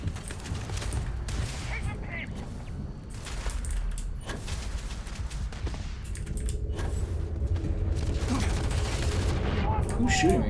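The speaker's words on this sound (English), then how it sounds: "Who's shooting me?" Video game gunfire in Starfield, a steady stream of sharp shots and mechanical clatter from an enemy on a rooftop, dense and moderately loud beneath player chatter.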